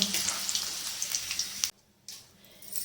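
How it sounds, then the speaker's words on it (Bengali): Potatoes fry in oil for a mutton curry, crackling and sizzling with small popping bursts. The sound cuts out abruptly for a moment, then returns more quietly. "লাল করে ভাজা হয়ে গেছে আলুগুলো তুলে নেব"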